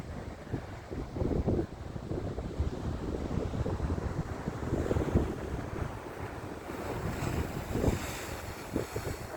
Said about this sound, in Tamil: பயங்கரமாக காற்று